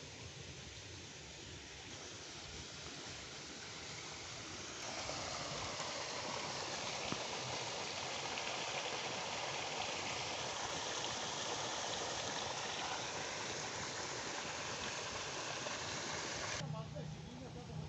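Water gushing steadily from an electric pump beside a fishing pond, a soft continuous rushing flow that grows fuller about five seconds in, then cuts off near the end, with voices faint in the background.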